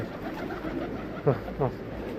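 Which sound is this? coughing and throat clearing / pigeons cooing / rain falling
pigeons cooing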